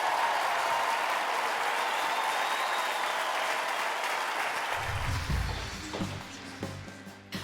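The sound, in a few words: audience applause for a choir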